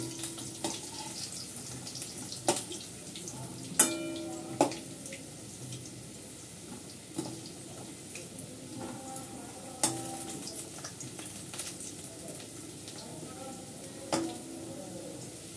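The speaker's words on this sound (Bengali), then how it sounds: "আলুটা লাল করে ভেজে নেব, ভেজে নিয়ে তারপর করবো।" Potatoes fry quietly in a pan under a soft steady sizzle, punctuated by repeated sharp scrapes and clinks as a utensil stirs them at irregular intervals.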